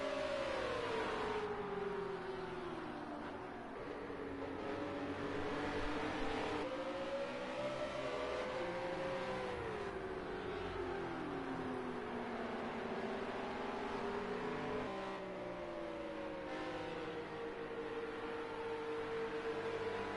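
GT Junior race cars circle a Scottish circuit during a championship round, engines droning and rising and falling in pitch as they pass at moderate distance, a continuous layered whine with no talking.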